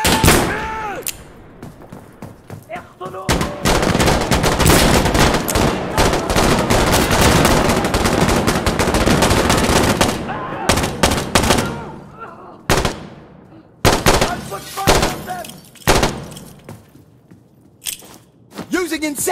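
Insurgency Sandstorm firefight: dense, sustained automatic gunfire for several seconds, then sharper separate bursts and single shots between pauses, with players shouting over the shooting.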